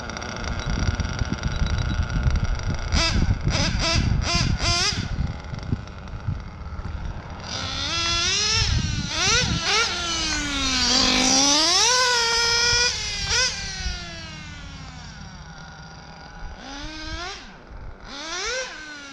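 A modded RC Triton L5 nitro engine fitted with a Nova race carb buzzes up and down in pitch, its high whine swinging sharply as the throttle blips before settling into a steady idle, close and loud.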